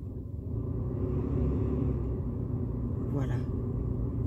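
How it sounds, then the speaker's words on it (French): Ventilation fan blowing inside a new car, a steady low rumbling airflow throughout, with a brief brighter whoosh near the end, while people talk. "Là, ça c'est le ventilo."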